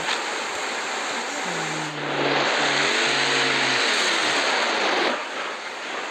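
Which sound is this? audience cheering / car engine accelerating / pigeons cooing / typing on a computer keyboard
car engine accelerating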